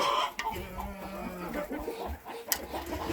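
Hens, including Cochin chickens, cluck softly while pecking at food scattered for them on a farm, with steady low clucks and scratching sounds nearby.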